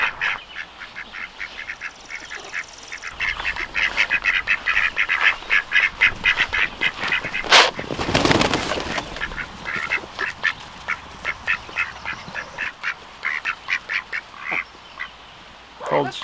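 A flock of about a dozen ducks quacks repeatedly in rapid bursts outdoors after heavy rain, with a brief louder splash or rustle in the middle and occasional faint human voices nearby.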